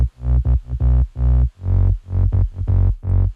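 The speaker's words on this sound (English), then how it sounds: "I have a sub bass, which sounds like this." A warm sine-wave sub bass synth in FL Studio, from a remake, plays alone as a rhythmic run of about ten deep notes, some short and punchy, others held, loud and clean.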